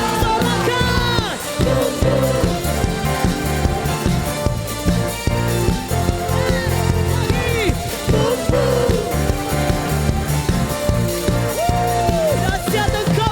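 A crowd cheers and whoops at a youth praise and worship service, loud and continuous over singing and band music that keep going throughout.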